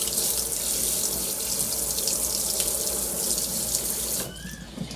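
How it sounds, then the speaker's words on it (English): Running tap water splashes over a spoon being rinsed in a kitchen sink, a steady close rush that cuts off near the end, leaving a quieter tail. "Let me wash my spoon off."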